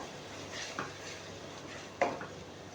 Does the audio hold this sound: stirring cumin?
yes